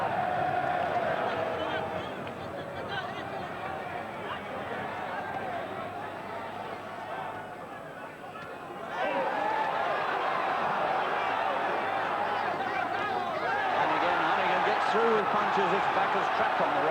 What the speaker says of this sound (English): And this crowd singing their appreciation of him.